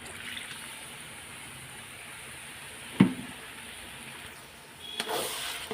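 Chicken masala sautéing with melon seed and cashew paste for a Bengali lemon chicken, a soft continuous sizzle in the pan with a sharp clack at one point and stirring scrapes near the end.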